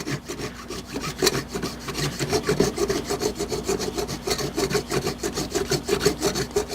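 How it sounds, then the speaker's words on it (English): A flat hand rasp scrapes across hardened, dried Bondo body filler on a cabinet repair, giving steady rhythmic back-and-forth rasping strokes, close and fairly loud, with no talk. "It resembles a cheese grater, but it's a flat hand rasp."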